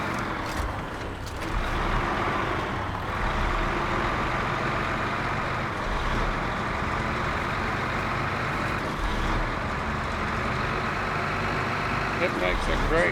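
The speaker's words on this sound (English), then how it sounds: "This truck handles great with a service attachment." A service truck with a service attachment drifts on loose ground, its engine droning steadily and loudly near the listener with rumbling tire noise throughout.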